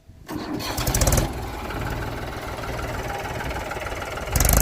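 Mahindra 265 tractor engine cranking and catching with a rough diesel rattle, then settling into a steady loud idle close by, with a revving surge at the end and no talking.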